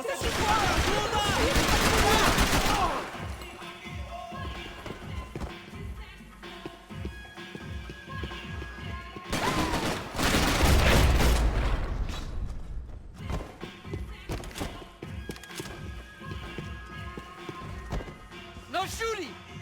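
Bursts of gunfire in the video game Max Payne 3, a loud volley at the start and another midway, with scattered thuds between and voices talking throughout.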